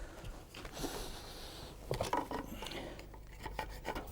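A small curved handsaw trims the wooden felloes of a handmade cart wheel, giving a rough continuous rasping that grows louder near the middle, close and steady with no voices.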